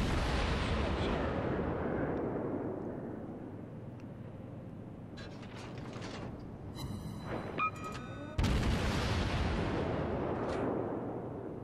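Deep, rumbling naval cannon blasts boom in the distance in World of Warships, followed by a louder heavy shot near the end over a low engine drone.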